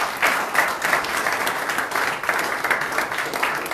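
A church congregation at a French-language worship service claps together in a full, sustained round of applause, fairly close and even throughout.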